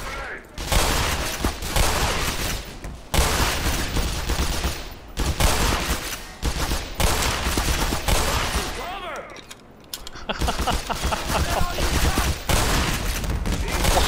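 Enemy gunfire in the video game Black Mesa, sustained rapid bursts of automatic fire in loud repeated volleys with brief gaps between them.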